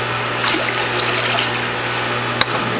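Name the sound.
sorrel juice poured into a container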